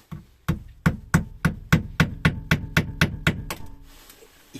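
A hammer drives a headless nail into wood inside an old camper van, striking about eleven evenly spaced, loud, close knocks that ring briefly, then the last blow fades into quiet.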